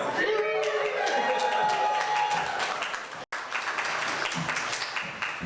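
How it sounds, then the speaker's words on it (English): An audience at a talk on Cascadia and bioregionalism cheering and applauding, sustained clapping and whoops with a brief break midway, voices mixed in. "Can we cheer this?"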